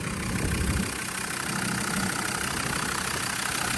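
Land Rover Discovery TD5 diesel engine running at idle: a loud, steady, even mechanical rumble that holds unchanged throughout, with no voices.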